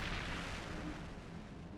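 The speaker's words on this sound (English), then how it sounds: "Heavy Tesla cannon." Heavy Tesla cannon fire in a mech combat video game, a loud continuous broadband roar of crackling energy blasts that fills the whole clip without pause.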